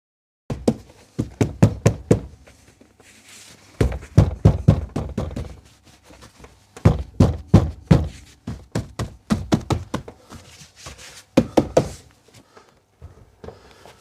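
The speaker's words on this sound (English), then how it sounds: "try and get these to slot into the various holes in the door" Plastic door panel clips being pressed and knocked into their holes on a Rolls-Royce Silver Spirit III door, giving repeated sharp close thumps and taps in uneven bursts over several seconds.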